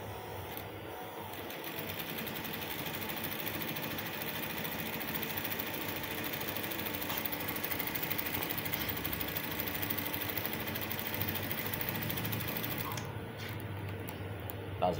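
A sewing machine stitching a single welt pocket runs steadily and close for about thirteen seconds, a fast even mechanical hum with rapid needle clatter, then stops near the end.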